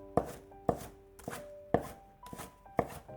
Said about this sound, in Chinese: 几颗新鲜的小葱切成葱花